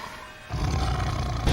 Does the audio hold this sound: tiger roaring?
yes